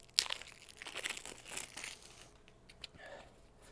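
Plastic wrap crinkles and tears as a stack of board game cards is unwrapped, with close, quiet rustling and crackling bursts that thin out toward the end.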